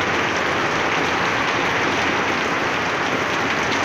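Heavy typhoon rain pours down steadily in Pasig during Typhoon Ulysses, a dense, loud, unbroken roar of water drumming on surfaces with no voices.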